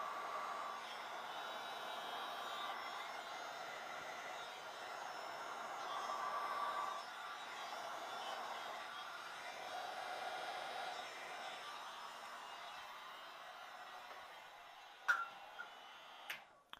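A heat gun blows steadily over craft foam to raise a monster skin texture for cosplay, a continuous airy whoosh held close and fairly quiet for most of the stretch, ending with a few sharp clicks.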